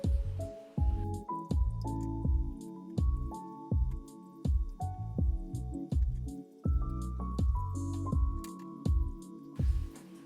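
Water rinses freshly cut coral frag pieces in a reef-keeping setup. Short wet squishing, dripping bursts repeat about once a second, close and moderately loud, with no talk.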